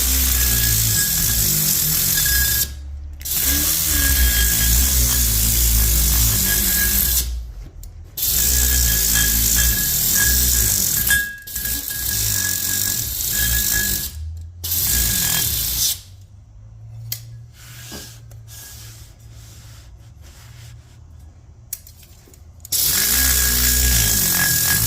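A power tool buffs the cam saddles on a Mazda 2.0 cylinder head, its loud whirring grind running in long steady stretches cut by short pauses, then a quieter stretch of scattered taps before the buffing starts again.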